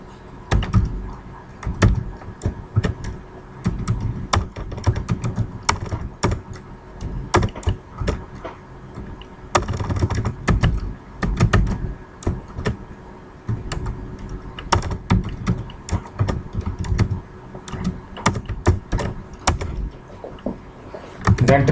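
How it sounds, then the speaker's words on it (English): Rapid, irregular clicking of keys on a computer keyboard as router commands are entered, with dense bursts of keystrokes and short pauses running steadily throughout, close and moderately loud with no talking. "You can type anything."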